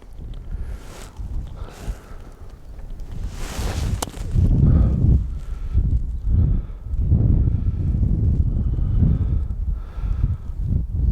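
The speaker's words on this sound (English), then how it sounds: "the wind's blowing it to the right" Wind gusting across an open golf course, a loud low rumble of buffeting against the microphone that swells and fades in waves.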